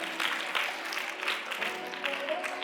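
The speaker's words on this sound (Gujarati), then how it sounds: "વિદ્યાર્થીઓને આપણે તાળીઓથી પ્રોત્સાહિત કરીશું" An audience claps warmly for a prize-winning student at a community awards ceremony. The applause is moderately loud, even and sustained, and lasts the whole clip without voices on top.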